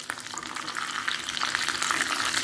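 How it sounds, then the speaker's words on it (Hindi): Curry leaves and mustard seeds fry in hot oil in a small tempering pan, giving a dense, steady crackle and sizzle, loud and close, with no voices. "तड़का पैन में कड़ी पत्ते और राई को क्रैकल होने देंगे"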